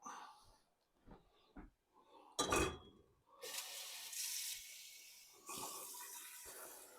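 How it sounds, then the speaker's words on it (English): Tap water running into a cooking pot in a home kitchen, starting with a few clinks and a sharp splash, then a steady rushing stream that briefly pauses and resumes, fairly faint with no talking. "We're going to put some water in the pot."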